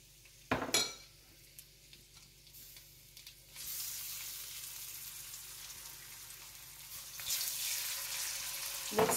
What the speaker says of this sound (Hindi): 3 to 4 टीस्पून हम ऑयल डालेंगे। इसमें जो हमारे चॉप्ड जिंजर गार्लिक थे वो डाल देंगे।